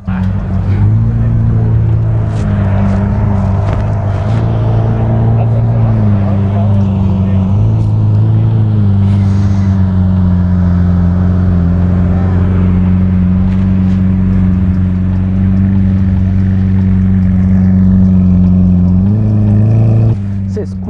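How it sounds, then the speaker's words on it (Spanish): A deep supercar exhaust rumbles steadily at idle for about twenty seconds at a car show, with a brief rise in revs near the end and some background chatter. "Escucha el escape brutal, y eso que no le están ni acelerando."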